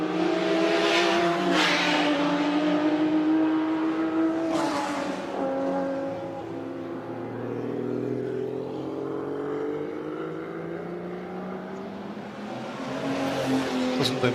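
A Lancia Monte Carlo turbo race car engine revs hard, with rising and falling pitch sweeps as it accelerates and shifts. The engine stays loud and close throughout, with no talking.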